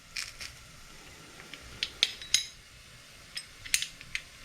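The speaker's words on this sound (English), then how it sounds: "These can be pressed or minced. I'm always going to press if it says press or minced" Garlic cloves are squeezed in a metal press in the kitchen, giving a string of faint clicks and sharp metallic snaps spaced irregularly over quiet background noise.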